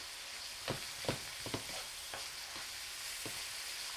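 A cabbage roll in a bowl mixture being stirred in a hot pan, with repeated scraping and clunking strokes over a quiet background sizzle, no talking.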